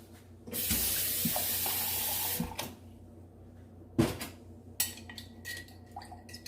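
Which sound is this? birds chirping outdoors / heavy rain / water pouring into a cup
water pouring into a cup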